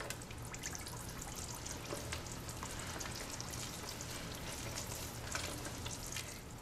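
Hands knead tamale masa with warm beef broth, making a steady, close wet squishing and slapping with a fine crackle throughout. No one speaks.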